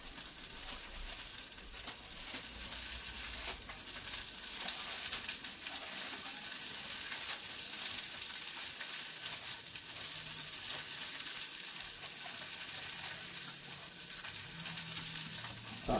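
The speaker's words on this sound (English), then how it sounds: "Turn the onions up just to keep them hot." Onions sizzle steadily in a frying pan with a dense, continuous hiss and crackle at a moderate level from start to finish, with no speech over it.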